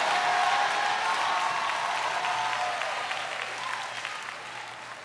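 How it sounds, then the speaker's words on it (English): Applause from a church congregation during an evangelist's sermon: broad, dense clapping that starts loud and slowly fades over five seconds, with faint cheers mixed in. "clap your hands one more time and give God the greatest shout of praise"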